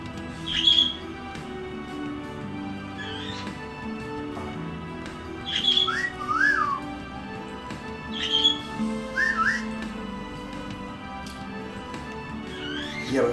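Alvin, a pet bird, whistles in short bright phrases with rising and falling swoops, repeated every few seconds at close range over a low background murmur.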